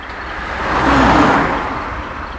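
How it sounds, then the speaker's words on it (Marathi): A white car speeding toward the listener along a road at night, heard as a broad whooshing roar that swells to a peak around the middle and then eases off, loud and close, with no voices. "त्या रस्त्यावर दूरवरून एक पांढऱ्या रंगाची कार भरधाव वेगाने येत होती."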